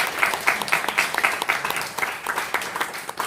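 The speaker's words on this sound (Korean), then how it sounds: "우리 668의 수준이 저 정도면 좀 박수 좀 쳐주세요." Clapping from a church congregation during a Sunday morning service at a military church, a steady burst of many hands at moderate loudness with a few sharper claps standing out.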